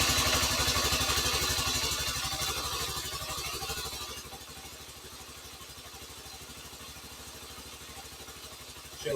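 A Honda CT110 trail motorcycle idles after a carburettor replacement, its engine running loud and steady in a close, even putter that eases slightly quieter partway through, with no voices.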